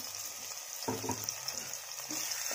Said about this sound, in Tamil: ஸோ இதை நல்லா வதக்கிக்கலாம்